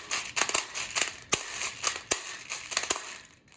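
Airsoft BBs clicking into an AK gas blowback rifle magazine from a tilted speed loader, a close series of sharp irregular rattling clicks and bursts, without talk.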